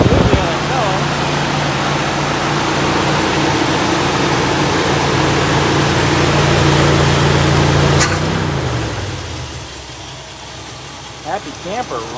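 A 1964 Buick Electra V8 fitted with an Edelbrock 4-barrel carburetor runs at a steady idle for about eight seconds, with a low droning hum, then the engine note cuts out and settles into quieter background.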